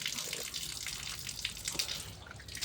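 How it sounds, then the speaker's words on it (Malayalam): Hands are washed under running water from a tap before a meal, a faint, steady splashing hiss with soft irregular spatters. "അപ്പം ആദ്യം പോയി കൈ കഴുകാം"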